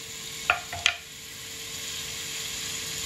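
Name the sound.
stirring mussels with lemongrass in a hot pan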